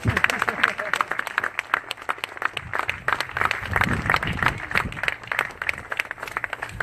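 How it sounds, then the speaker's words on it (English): Crowd applause and clapping rising over the room, with a voice talking on top of it. "It's okay to applaud, folks."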